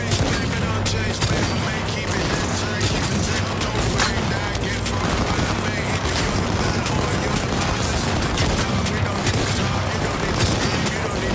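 Rapid, dense handgun fire from Johnny Silverhand's pistol in the video game Cyberpunk 2077, loud and sustained throughout amid a busy, noisy combat mix.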